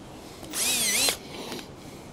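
A brief high-pitched whine of a power drill spinning for about half a second, close by, then a quieter short burst after.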